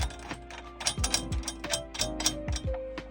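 Drum tension rods are turned finger tight by hand on a drum kit, producing close, quiet metallic ratcheting clicks and small rattles in irregular short bursts.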